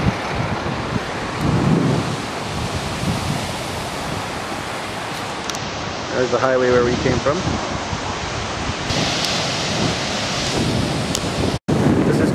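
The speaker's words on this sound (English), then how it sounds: "Actual waves, just like the ocean." Waves break on the Lake Superior shore at Old Woman Beach on a cold, very windy day, a constant roar of surf mixed with wind buffeting the microphone, while a person speaks briefly over it.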